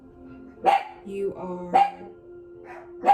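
A dog barks three times at a steady interval, sharp and close, while someone talks calmly over and between the barks.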